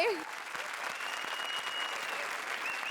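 Studio audience applauding on a comedy show set, steady and moderately distant, with a faint voice and tonal sounds briefly at the start.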